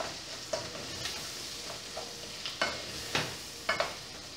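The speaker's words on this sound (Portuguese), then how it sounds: "Vamos deixar fritar a cebola e alho, tá?" Onion and garlic fry quietly in a pan while a spoon stirs, giving soft sizzling under a series of sharp scraping clinks that come roughly every half second.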